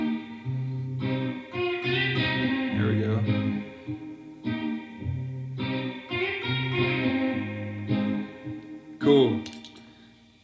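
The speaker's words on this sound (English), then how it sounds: "let's go ahead and learn that tasty lead lick that we play for the chorus" An electric guitar plays a lead lick through chorus and distortion effects, a phrase of sustained, wavering notes repeated twice, loud and close, ending in a brief bent squeal.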